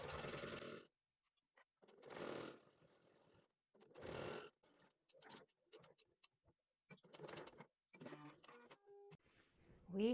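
Sewing machine back stitching a skirt seam gives short bursts of rapid mechanical whirring separated by pauses, quiet and close, ending with a few faint clicks and squeaks.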